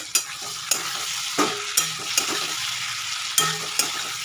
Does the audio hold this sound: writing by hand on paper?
no